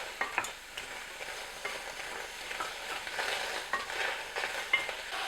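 Frozen peas stirred in a pan as they defrost over the heat, giving a soft, steady sizzle with light scraping and clicks throughout, close and fairly quiet with no voices.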